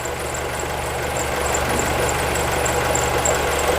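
A 2002 Honda CR-V engine, running on gas, idles steadily with a slight extra noise, giving a close, continuous rumbling hum with a faint knocking texture and no speech throughout.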